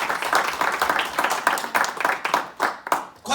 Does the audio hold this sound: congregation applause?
yes